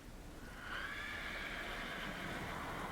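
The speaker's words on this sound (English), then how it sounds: "Scary horse noise." A horse whinnies in a horror video game set in a dark wood, a drawn-out wavering cry rising after a brief quiet start and holding steadily over low ambient rumble, with no talk.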